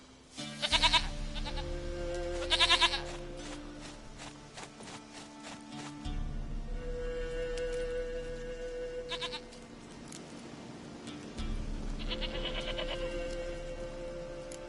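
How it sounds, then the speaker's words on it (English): A goat bleats in The Witcher video game, a few clear nasal cries standing out over a quiet hum of game ambience, with pauses between calls. "Goat of mine, dearest,"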